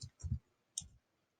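Computer keyboard keys pressed in quick succession for a Microsoft Word shortcut: three soft, close clicks, two close together and one after a short pause, then quiet.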